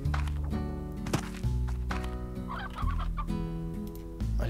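Chickens clucking in the video game Slime Rancher, a busy overlapping chorus of clucks and squawks over a steady droning background, fairly loud and close throughout.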